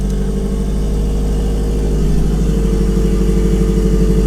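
A turbocharged car engine idles steadily just after its first start, a loud, continuous low rumble with a slight uneven pulse and no voices.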